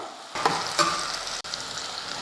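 Onions sizzle and crackle in a hot pan, with a couple of stirring scrapes and a brief clatter partway through.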